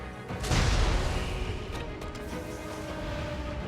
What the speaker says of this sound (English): certainly using the cannon speeds things along in terms of some of the little scrub enemies